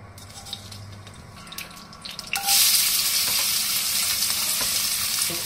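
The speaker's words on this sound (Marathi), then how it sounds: "तेल गरम झालं तर आपल्याला मग राई आणि जिरं टाकायचं आहे." Hot oil bursts into a loud, steady sizzle partway through as mustard seeds and cumin hit the pan, crackling continuously after a quieter start.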